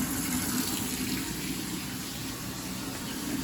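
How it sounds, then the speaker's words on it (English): Tank water from a 100-gallon guppy aquarium gushes steadily out through a hose, a constant close rushing flow with no pauses and no voices. "And that's just straight water from the tank coming out."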